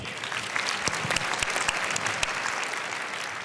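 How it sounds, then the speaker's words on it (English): Attendees at the Sustainable Denver Summit 2017 applaud themselves, a moderate, even patter of many hands with a few distinct louder claps standing out, heard from a little distance. "Give yourselves a round of applause."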